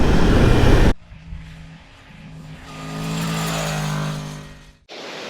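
A Ducati Multistrada V4S engine revs and pulls through its gears, a droning motor tone that swells and fades mid-stretch, framed by abrupt bursts of loud noise at the start and end.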